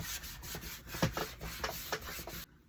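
Brown wax is scrubbed onto a wooden noodle board with quick, repeated brushy rubbing strokes, close and fairly quiet, ending abruptly after a couple of seconds.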